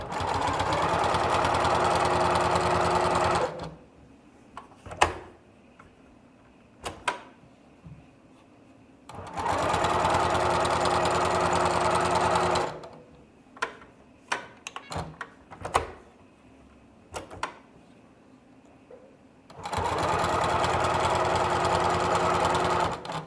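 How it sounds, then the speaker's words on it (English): A sewing machine runs stitches along three sides of fabric for a pumpkin craft, in three steady, fairly loud bursts of a few seconds each, with quieter handling clicks and rustles between them. "Now I'm going to stitch on 3 of the sides."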